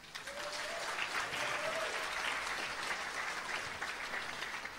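Sustained applause from a dinner audience at a charity gala, steady dense clapping that fills the room at moderate distance, holding evenly throughout with no pauses.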